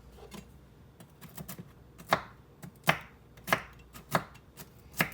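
A knife rough-chops walnuts on a cutting board, producing sharp irregular knocks with crumbly clicks between them, close and fairly loud, about eight distinct strikes with no talking.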